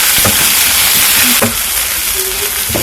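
Green leaves, added after onions have browned, cooking in a pan with a loud steady hiss of frying and a few light knocks of stirring, no voices.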